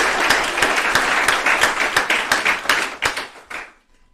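An audience at a graduation ceremony claps for the graduates. The applause is lively and fairly close, with individual claps standing out, then thins and fades to silence in the final half-second.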